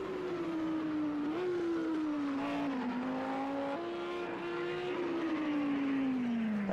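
A GT3 racing car engine roars continuously in the video game Project Cars 2 at Azure Circuit, its pitch rising and dipping with gear changes, loud and close with no talking.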